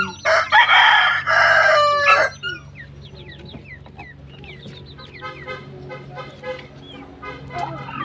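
Native chickens nearby: a loud rooster crow rings out first, followed by a run of softer, scattered clucks and chirps from the flock.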